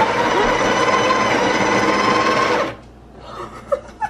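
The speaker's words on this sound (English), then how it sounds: "Oh wait, so this is just the grinder." A Breville Barista espresso machine's built-in grinder grinds coffee beans with a loud, steady whir for over two seconds, then stops abruptly, leaving faint clicks and handling sounds.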